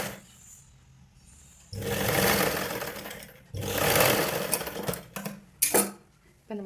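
A sewing machine stitches a blouse in two sustained bursts of motor whir and needle rattle, loud and close, separated by quieter pauses with faint handling sounds and short stops near the end.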